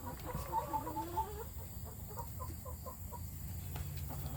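Chickens cluck in a busy burst during feeding, several birds close by with rapid, overlapping clucks and short calls that repeat steadily over a low background.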